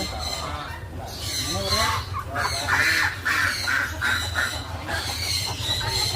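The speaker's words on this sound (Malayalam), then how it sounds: "ആ താറാവാണ് കേട്ടോ" Ducks at a pets park in Mini Ooty give repeated nasal, honking quacks in short bursts, fairly close, mixed with people talking nearby.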